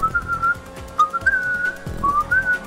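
A person whistles over voice chat during a Grand Theft Auto V race: a wavering, sliding melodic tone that runs almost continuously, with low thumps and game noise underneath.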